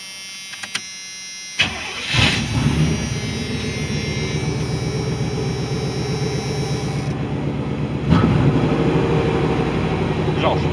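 A van's engine cranks and catches, then settles into a loud, rough steady idle with a brief rev partway through, with people talking nearby.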